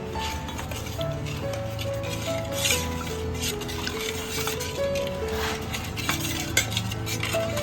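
A spoon scrapes and clinks against a steel pot while a milk, sugar and cardamom mixture for kharvas is stirred, giving steady close metallic taps and soft liquid swishes, with faint background music.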